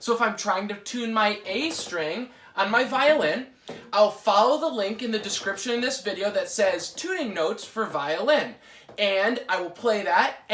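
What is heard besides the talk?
No everyday noise stands out behind the speech.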